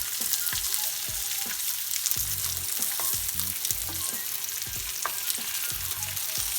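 Lamb chops with garlic and herbs fry in a hot pan, giving a steady, dense sizzle throughout with repeated low thumps and scrapes as the chops are turned.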